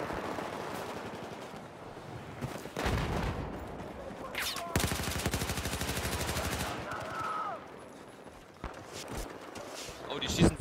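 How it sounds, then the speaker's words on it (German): Gunfire in the shooter game Battlefield 4, with bursts of rapid automatic fire and scattered single shots over about ten seconds, some sharp and close, others dull, amid game noise. "die schießen von unten, von hinten"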